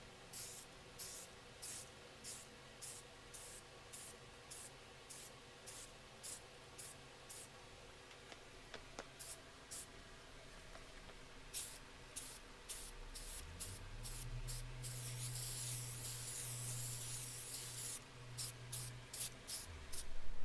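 Short bursts of spray paint hiss rhythmically as black paint is sprayed over a stencil, with a longer sustained spray near the end and a low background hum partway through.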